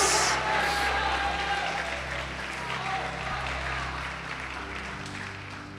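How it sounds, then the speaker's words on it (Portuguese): A church congregation claps together in a broad, continuous wash of applause over a low sustained organ or keyboard tone, slowly easing in intensity. "Pode aplaudir o Senhor Jesus"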